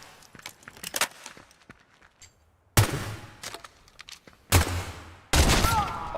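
Gunshots in the shooter game Pioner, with three loud, sharp bursts spaced a couple of seconds apart over quieter clicks and footsteps.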